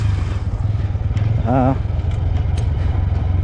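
Motorcycle working as a village bike taxi on rural roads, its engine rumbling steadily and close throughout, with a brief tonal whine partway through.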